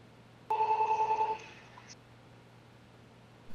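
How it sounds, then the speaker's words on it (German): A telephone bell rings once in a short, bright burst of just under a second, then cuts off. Afterwards only a faint low hum remains, with no one speaking. "Telefon."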